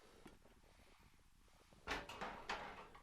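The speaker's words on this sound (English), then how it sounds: "We'll open up our pressure cooker." Opening a pressure cooker after cooking brown rice: a quiet rattle is followed by a few sharp metallic clunks and scrapes of the lid coming free, heard close up.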